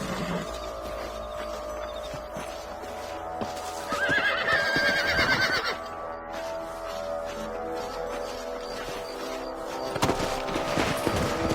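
A horse in Red Dead Redemption whinnies loudly in one drawn-out call amid hoofbeats and a busy game soundscape, with a sharp crack near the end.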